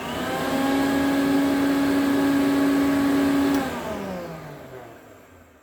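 Restored 1972 Electrolux Z500 vacuum cleaner motor running with a steady high whine, then switched off and winding down smoothly into quiet.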